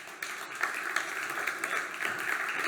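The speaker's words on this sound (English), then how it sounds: "give Javed a huge round of applause if you would" An audience at a live tech panel gives a speaker a round of applause, steady clapping from many hands filling the room, moderately loud and sustained throughout.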